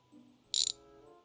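A ratchet wrench loosens a rear seat bolt in a garage, one short, sharp clicking burst after a soft mechanical rattle, close and otherwise quiet.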